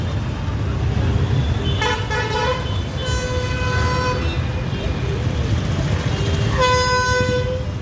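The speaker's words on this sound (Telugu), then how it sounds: "ట్రాఫిక్ చూడండి ఎంత విపరీతంగా పెరిగిపోయింది." Heavy city-centre road traffic in Guntur roars continuously near a statue junction, with several car and vehicle horns honking in short bursts over the engine rumble; no talk is heard.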